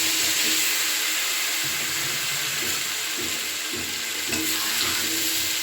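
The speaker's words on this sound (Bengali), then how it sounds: "আলুটাকে ভাজতে দিয়ে দিলাম।" Potatoes fry in hot oil with turmeric, a steady, loud sizzle that fills the whole stretch, with faint scraping and knocks of stirring underneath.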